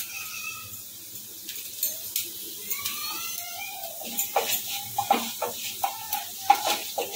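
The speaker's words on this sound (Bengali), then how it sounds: "ফোড়নটা একটুখানি নেড়ে নেব" Spice tempering for a potato sagu fries in a pan, a soft sizzle broken by repeated scraping stir strokes that grow louder and more frequent toward the end.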